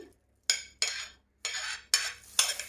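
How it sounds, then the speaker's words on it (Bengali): Bread pizza topping ingredients with capsicum mixed in a bowl, five distinct scraping strokes of a spoon against the bowl in a loose rhythm, close and clear against silence. "এবার আমি সবগুলো উপকরণ একসাথে মিক্সড করে নিব ক্যাপসিকামটা দিয়ে নিচ্ছি"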